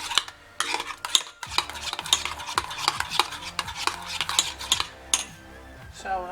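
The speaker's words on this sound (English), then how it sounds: "Then I'm going to stir it together." Spoon stirring grated carrot into a melted homemade soap base, with repeated close scraping and clinking strokes against the container in an irregular rhythm, no talk.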